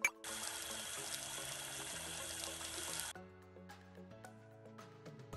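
Tap water running to rinse in a Sesame Street game, a steady close stream that stops abruptly, leaving soft chimes and background music.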